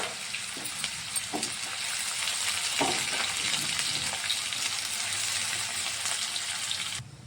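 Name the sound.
onions, curry leaves and chillies sizzling in hot oil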